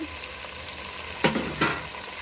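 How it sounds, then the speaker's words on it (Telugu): Ginger, onions and spices frying in a pan give a steady close sizzle, with two brief louder stirring scrapes near the end. "ఒక ఐదు నిమిషాల దాకా మంచిగా ఫ్రై చేసుకోవాలి"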